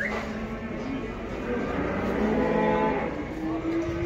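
Calves low at a busy cattle market in Taraz, with drawn-out moos rising over a constant murmur of crowd noise.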